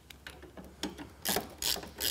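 A ratchet works the stock bolts out of the side of Harley-Davidson motorcycle forks, giving a few short, close metallic clicking bursts, brisk and dry, with the last several strokes louder.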